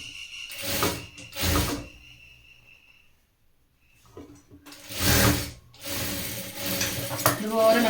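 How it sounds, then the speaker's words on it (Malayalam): A sewing machine stitches a sleeve onto a women's top in repeated short bursts of mechanical whirring, with quiet pauses between runs and close, fairly loud motor and needle clatter. "ഇതുപോലെ മറ്റേ കൈയും തയ്ക്കുക"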